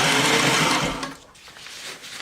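Sewing machine stitching a fabric stuff sack, a loud steady whirring run for about a second that then stops, leaving quiet handling noise; no talking.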